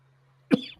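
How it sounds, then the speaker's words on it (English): A single sharp cough lands close to a microphone after near silence with a faint low hum, loud and abrupt, then trails off quickly. "You made me laugh so much that I had to cough right into the microphone."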